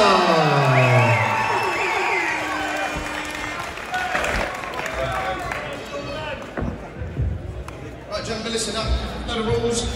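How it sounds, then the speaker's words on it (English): A boxing crowd applauds and cheers as a fighter is introduced in the blue corner, with loud clapping and shouts swelling at first, then thinning into scattered claps and whoops, with voices talking through it. "Big round of applause for the kid, Billy"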